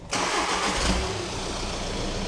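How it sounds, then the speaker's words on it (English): A VW Caddy van engine cranks and catches, then settles into a steady, fairly loud idle that runs on without revving. "I think the engine sounds pucker"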